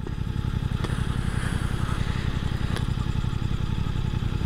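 A 2023 Suzuki GSX-8S motorcycle engine runs at a steady idle, a rapid even chugging pulse that stays constant throughout, with a couple of faint clicks and no talking.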